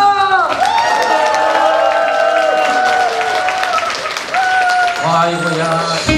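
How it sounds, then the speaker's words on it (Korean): Concert audience applause and cheering fill a hall at a singer's autumn concert, with dense clapping and crowd shouts under sustained tonal music and voices throughout. "박수와 함성!"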